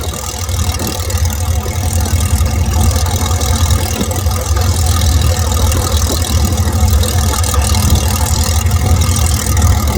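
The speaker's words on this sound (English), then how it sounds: "We have two Harvards ready to take to the runway" Two North American Harvard aircraft idle at an air show before taxiing, a loud steady rumbling radial-engine drone with a rough, throbbing texture running throughout.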